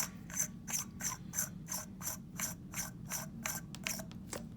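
A firearm suppressor threaded by hand onto a booster, giving a rhythmic series of metallic ratcheting clicks close up, about two per second, with a few quicker clicks near the end and no talk.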